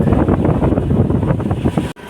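Strong wind buffeting the microphone, a heavy continuous low rumble that breaks off briefly near the end.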